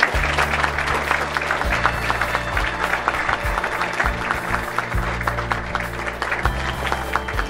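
Applause at the Tim Campbell Scholarship award ceremony as the winner is introduced. Steady clapping from an audience runs for several seconds over a low background hum, at moderate volume with no talk.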